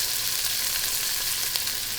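Guanciale crisping in a pan gives off a steady, close sizzle, a continuous bright hiss with a few faint pops and no voices over it.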